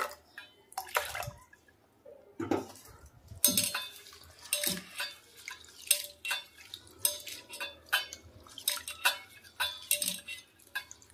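Almonds being washed in water in a kitchen vessel, with repeated close splashes, sloshing and light clattering of nuts against the container in an uneven rhythm, alone and moderately quiet.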